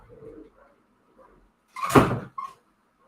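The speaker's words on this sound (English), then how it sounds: "I'm going to shut this door" An indoor door swings shut with a single loud thud and a brief rattle, preceded by faint shuffling and soft creaks, with a quiet knock just after.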